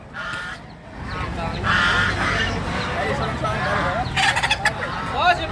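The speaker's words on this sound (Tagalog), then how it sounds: "Ayan ang manok ng Mindanao." Gamecocks crow loudly and cluck close by, with several overlapping calls and rough rhythmic clucks, and someone talks amid the birds.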